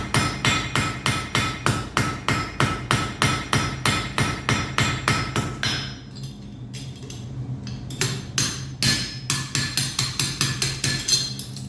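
A peen hammer strikes hot metal while forging grooves into a rune pendant, ringing in a fast, even run of sharp blows, then a short irregular pause before the rhythmic hammering resumes, loud and close.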